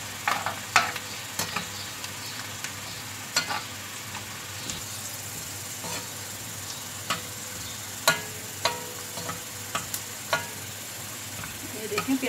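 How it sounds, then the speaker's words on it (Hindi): Chopped onions frying in about half a cup of oil until light brown, with a steady soft sizzle and occasional sharp clicks and taps of a utensil stirring in the pan, no talking. "अब इसमें मैं प्याज ब्राउन कर लूँगी। प्याज को हमें लाइट ब्राउन करना है।"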